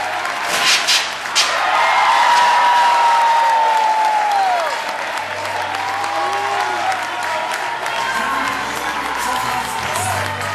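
Loud, sustained applause and cheering from a crowd at a political rally in Maipú, with whistles and shouts rising over dense clapping that continues steadily throughout.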